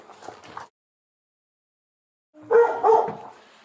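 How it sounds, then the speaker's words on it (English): A dog barks inside a house, likely shut in a kennel: a short burst of barks, then silence, then two louder, closer barks. "The dog, I think it's kenneled."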